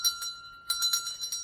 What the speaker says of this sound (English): I hear church bells.